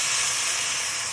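Wine poured into a hot beef stew pot gives a loud, steady hiss of steam and spray that fills the whole short moment without a break.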